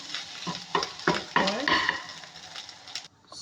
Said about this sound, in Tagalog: So, haluin natin yun ng haluin.